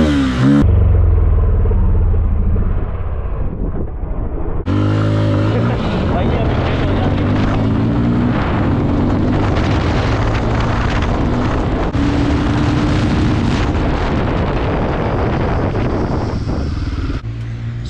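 A Bajaj Pulsar 250 motorcycle engine revs hard during a wheelie attempt, its pitch climbing and dropping through gear changes, loud and close under heavy wind rush across the microphone.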